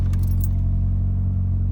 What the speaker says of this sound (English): So let's go ahead and start the car up.